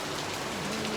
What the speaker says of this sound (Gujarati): આમ જો અમે વરસાદ એન્જોય કરીએ છીએ કા કેવો મસ્ત આવ્યો છે